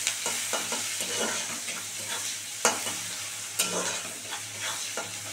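Two sliced onions frying in hot oil until golden, a steady close sizzle broken by sharp spatula scrapes and stirring clatters every second or so, with no voices.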